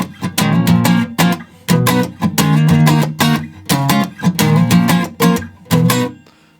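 Bright guitar strumming the intro of a song in a rhythmic pattern of short bursts with brief gaps, loud and close, with no voices.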